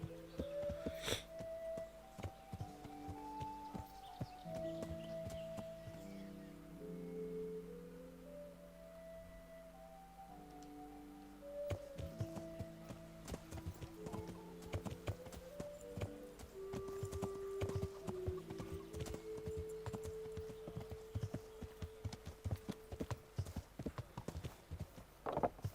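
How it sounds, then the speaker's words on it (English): Hoofbeats of a horse being ridden in Kingdom Come: Deliverance, a steady rapid clip-clop running under a sustained orchestral music score throughout. "Learn how to ride a horse"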